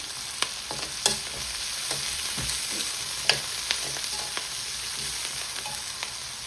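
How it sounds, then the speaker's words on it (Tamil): Shallots fry in hot oil in a pan, a constant close sizzle with scattered sharp crackles and an occasional spoon tap, moderately loud and free of speech. "கொஞ்சம் சின்ன வெங்காயம் நான் சேர்க்கிறேன்"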